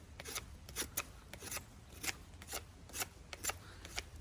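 A Bestech Hedron fixed blade knife making slicing cuts, a series of about nine short, sharp scraping swipes in an irregular rhythm, close and fairly quiet.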